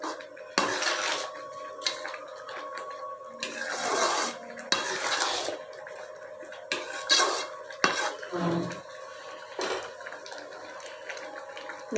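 Kesari being stirred with ghee in a metal pan, scattered clinks and scrapes of a spoon against the pan at irregular intervals, fairly quiet and close.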